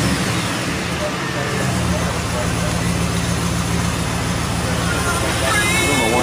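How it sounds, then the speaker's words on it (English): A 1942 Dodge truck engine idles with a mellow single exhaust, a steady low rumble running throughout, close by, with some talk and background noise over it. "Nice mellow exhaust."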